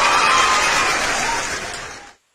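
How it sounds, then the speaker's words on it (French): Audience clapping at a celebrity lookalike meet-up, a dense, steady burst of applause from a crowd that carries on for about two seconds and then stops abruptly into silence. "On applaudit pour ça."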